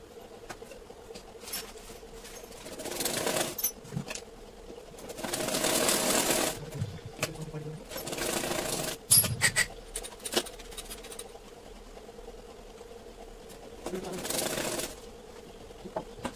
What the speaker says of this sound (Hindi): अब हम इसको स्टिच कर लेते हैं।